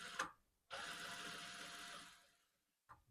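A sewing machine runs in one steady burst of about 1.3 seconds as it stitches a seam on an Elizabethan funnel corset, with brief start and stop clicks at either end and no talk.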